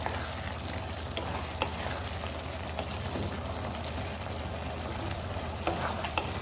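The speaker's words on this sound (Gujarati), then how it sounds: "ફાસ્ટ ફ્લેમ પર જ 1 થી 2 મિનિટ સુધી શેકાવા દઈશું ટામેટાને." Tomatoes roast and fry over a high flame as they are stirred, a dense continuous sizzle with faint scraping ticks, close and steady.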